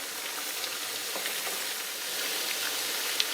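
Falafel balls frying in hot oil in a pan give a steady, close crackling sizzle, even and continuous throughout with a few tiny pops and no voices.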